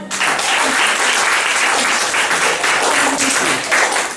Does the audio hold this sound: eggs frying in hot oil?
no